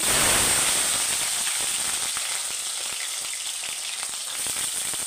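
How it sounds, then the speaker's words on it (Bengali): Potato pieces fry in mustard oil with black cumin seeds, giving a strong, continuous close-up sizzle with fine crackling that stays even throughout and has no voices over it. "আলুগুলো অল্প লাল লাল করে ভেজে নেব।"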